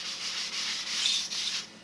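Hand sanding a model aircraft's wood with a sanding block and 400-grit paper: steady, close, raspy back-and-forth strokes in a rhythmic pattern of roughly four passes, with no voices.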